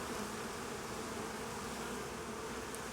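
Honeybees drone steadily from an open hive made by uniting two colonies, a dense, continuous buzz close by. No one speaks over it.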